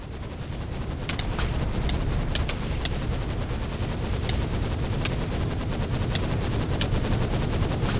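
Rapid bursts of gunfire from a gun in modded Minecraft (FTB Interactions), with sharp shots scattered over a steady, loud roar of in-game noise throughout.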